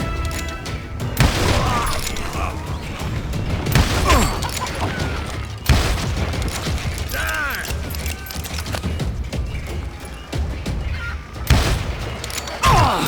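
Gunfire in the Western shooter Call of Juarez Gunslinger, repeated loud bangs and bursts spread through a chaotic firefight with mechanical clatter, under occasional speech.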